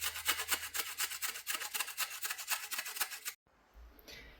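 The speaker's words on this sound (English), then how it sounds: "with the ginger, I'm just going to grate it straight in" Fresh ginger, skin left on, rasped over a grater in quick repeated strokes for about three seconds, a steady scratchy rhythm close by, then a sudden stop and a brief quieter rustle as the grating ends.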